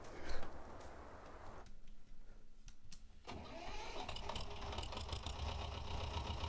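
A tractor engine idles in Farming Simulator 19 with a steady low mechanical hum, fuller and brighter after a brief quieter dip in the middle.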